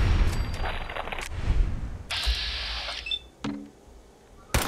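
Sniper gunfire in Fallout 4: several sharp, loud game gunshots with booming tails and clanking reload and interface sounds between them, no speech.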